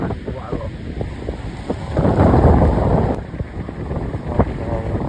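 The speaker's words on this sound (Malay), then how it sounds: "Angin kuat tu angin." Strong wind and heavy surf on Tawar beach, a loud continuous roar with buffeting gusts on the microphone and a surge of crashing wave noise in the middle.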